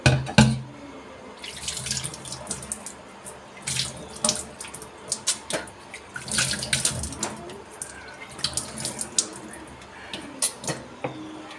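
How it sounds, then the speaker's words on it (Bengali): Tap water runs into a sink while someone washes their face, with irregular splashes and splats over a steady faint flow, close and moderately loud. "তো দেখো এবার আমি মুখটা ধুয়ে তোমাদের দেখাচ্ছি।"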